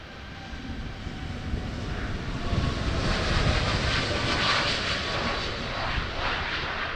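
A passenger airplane taking off at Amsterdam Schiphol Airport gives a steady, broad jet roar that swells toward the middle and holds, heard from a distance with no talk.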